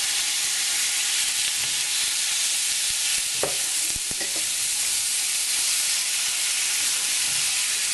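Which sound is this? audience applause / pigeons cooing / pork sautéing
pork sautéing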